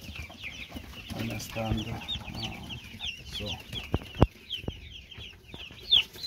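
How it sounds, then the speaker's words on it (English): One-day-old broiler chicks cheeping in a brooder, a continuous chorus of high peeps with a few sharper louder chirps standing out, mixed with some low rustling and a brief spoken word. "So those are the baby chicks."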